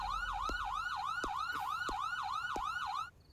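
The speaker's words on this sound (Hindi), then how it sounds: "देखो, एम्बुलेंस आई है।" An ambulance siren wails close and loud in a rapid, repeating up-down sweep over faint traffic noise, then cuts off abruptly just before the end.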